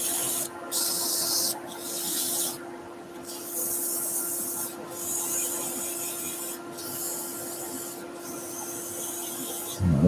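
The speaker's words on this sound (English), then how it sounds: "we're going to go to a slightly finer rotary sander as well" A fine rotary sander works over a rippled ash bowl, giving a steady close-up abrasive whir broken by short gaps every second or two as the pad lifts and touches down again.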